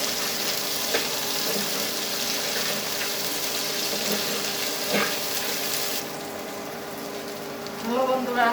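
Green chillies and onions frying in a pan, a continuous close sizzle with occasional stirring scrapes, quieting slightly partway through before a brief running-water sound at the end.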